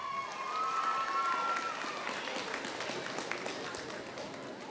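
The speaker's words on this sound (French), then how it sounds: "Est-ce qu'on peut applaudir super fort?" Applause and light cheering from a crowd at a cosplay contest, a fairly faint, diffuse wash of clapping with talking over it.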